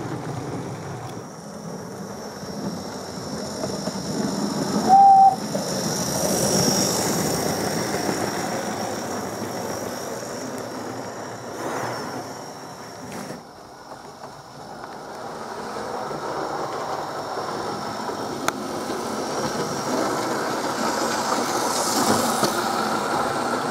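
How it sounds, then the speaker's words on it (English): A model locomotive hauling coaches rumbles steadily along its track, a continuous mechanical whir with small clicks and shifts in tone as it runs. "This was the first locomotive I owned. It was a model, and it's hauling the first coaches that I owned."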